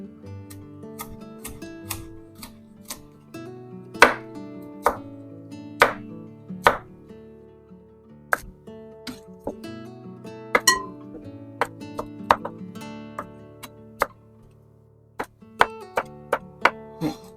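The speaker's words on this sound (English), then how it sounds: "other than the chopping of the broccoli" Repeated sharp knife chops through broccoli on a cutting board, irregular but steady, with soft background music running underneath.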